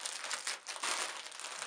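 A plastic packaging bag from a mail-order parcel being unwrapped, crinkling and rustling close up in a quick continuous burst.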